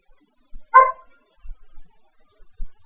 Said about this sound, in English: You guys hear that? The dog barking.